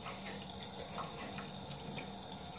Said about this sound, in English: I'm going to wring it out and show you the difference.